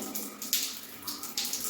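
Cold water gushes steadily from a tap that won't shut off, a bright hissing splash that swells and dips in pulses.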